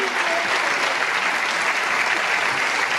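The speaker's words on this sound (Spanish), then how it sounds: "E damos un forte aplauso a esos traballadores incansables" A packed hall at a charity gala against cancer breaks into loud, sustained applause, dense clapping holding steady from start to finish with no voices rising above it.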